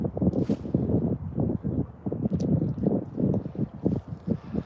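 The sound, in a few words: wind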